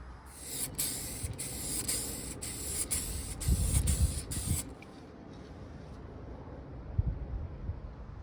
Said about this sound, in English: Now, I think I should probably spray gloss on that one too